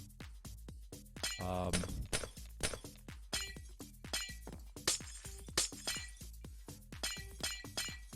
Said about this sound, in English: Breaking glass in Minecraft is the worst